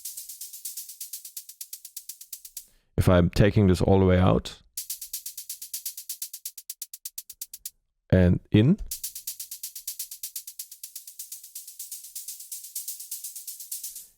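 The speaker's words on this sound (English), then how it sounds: "we're also throwing on a vocoder effect, setting it to noise, and then you can sort of add in more what feels like white noise" Dense white-noise hiss from a vocoder set to noise in Ableton, on a melodic techno track, pulsing in rapid rhythmic bursts, stopping during two stretches of close speech.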